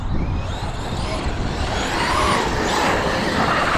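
Traxxas XRT RC car running flat out at full power down a straight, a steady high-pitched electric motor whine with gritty tyre and surface noise throughout, close and continuous.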